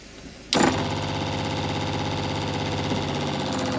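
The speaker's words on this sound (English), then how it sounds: "And the pump stops." A motorhome's water pump switches on abruptly after a quiet moment and then runs at a steady, close, continuous drone with a whirring mechanical hum until the end.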